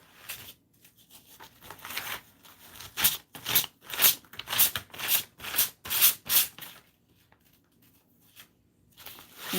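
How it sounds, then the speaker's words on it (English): A 220 grit sanding pad rubs over stamped letters on a garage sign in a series of quick, raspy back-and-forth strokes, about a dozen close, distinct scrapes separated by short quiet pauses. "And this is just a 220 grit sanding pad."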